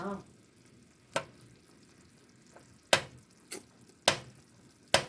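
Bacon bourbon jam simmers in bacon grease in a pan with a faint, steady sizzle, broken by several sharp clinks of a utensil stirring against the pan.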